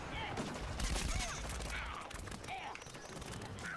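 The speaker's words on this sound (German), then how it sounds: "Da sind sie schon wieder und schießen den Gang runter." Bursts of rapid gunfire in the shooter game Plants vs Zombies Garden Warfare, fairly quiet and busy, with overlapping shots and effects layered under someone talking.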